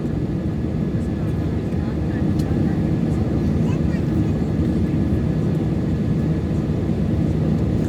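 Airliner cabin noise during the climb after takeoff from Kathmandu: a continuous, loud broadband roar of engines and airflow, with a voice talking over it.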